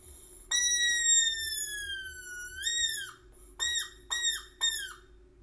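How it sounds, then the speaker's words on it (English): Squeaky foley seagull cries made by squeezing a pink rubber rabbit toy: one long high whistling squeal that bends upward, then three short rising squeaks in quick succession, close and alone. "The pink rabbit was used for the boat sound and the seagulls by squeezing it different ways."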